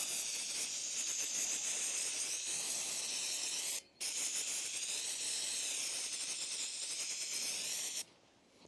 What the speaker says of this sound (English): Fucking love brake cleaner.